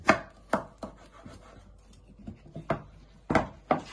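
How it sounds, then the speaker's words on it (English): A knife chopping a courgette down the middle on a board, about eight crisp separate knocks at an uneven pace, close and clear in a quiet room. "I'm going to chop them, first chop it down the middle."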